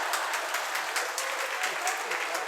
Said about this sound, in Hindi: मौन को, शांति को तो भंग कर ही दिया तालियों के द्वारा।